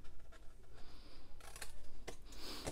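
Small scissors snip through a paper tab in a craft project, giving a few quiet, close crisp cuts and rubbing sounds with no talk.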